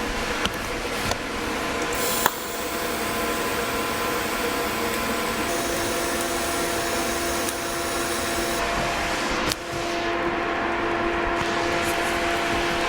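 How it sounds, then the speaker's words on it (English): TIG welding on rock sliders for a Land Rover LR4 truck in a shop: a steady, even arc hiss and buzz runs nearly unbroken, with a few short breaks and ticks, loud and close, with no talking. "Love me a little TIG welding."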